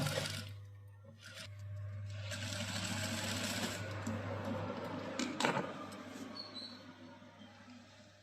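A sewing machine stitches piping onto a blouse neckline, running in a steady fast whirr close to the microphone with a low motor hum throughout.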